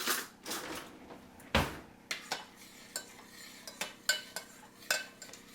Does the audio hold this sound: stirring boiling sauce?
yes